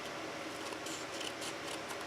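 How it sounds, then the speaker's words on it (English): Scissors snip through paper cut around a template, a quick series of crisp closely spaced cuts heard up close with no talking. "cutting my paper"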